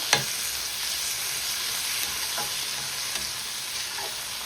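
Chopped tomato sautéing in a pan for Sri Lankan kolli pukkai, a steady close sizzle with a few faint spoon scrapes and clicks, no voices.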